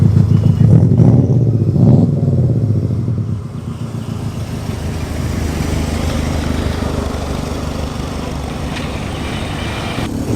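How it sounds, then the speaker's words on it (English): An early Mazda RX-7 with a rotary engine runs at a classic car show, a loud, buzzy engine drone that starts strong and settles into a steady rumble. "Mazda RX-7."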